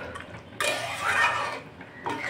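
A chicken curry pot is stirred and then covered with its lid. Soft clinks of a utensil give way to a louder metallic scrape and the clatter of the lid settling, followed by another short scrape, all close and without talk.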